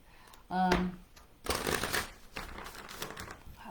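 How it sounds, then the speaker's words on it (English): A deck of tarot cards is riffled and shuffled up close in a few quick papery bursts, and a person speaks briefly just before the shuffling. "I gotta shuffle them the other way, but it feels so weird to do it."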